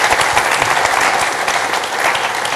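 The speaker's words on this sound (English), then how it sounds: "Let's give them a round of applause" Audience at a sustainable energy session gives the speakers a round of applause, a dense, steady wash of clapping from a full room that holds constant throughout with no voices over it.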